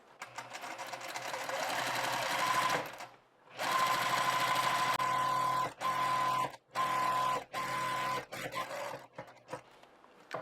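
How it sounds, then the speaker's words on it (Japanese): A sewing machine runs a gathering line at a 7 mm seam allowance without backstitching, producing close, steady mechanical whirring in several bursts separated by short pauses. "返し縫いをなしでまず7ミリで縫っていきます。"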